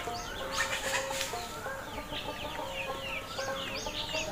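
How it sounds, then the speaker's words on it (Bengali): Tiger chickens of various ages cluck and chirp steadily on a farm, a busy flock of overlapping calls at moderate distance with no talk. "আমার এখানে বিভিন্ন বয়সের টাইগার মুরগি আছে"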